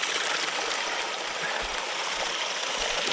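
Water poured steadily for about three seconds, a broad continuous splashing stream that sits close and fairly loud, with no talking over it.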